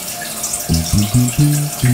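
Water runs steadily from an open tap during handwashing, a soft continuous hiss sitting under a voice that talks over most of the clip.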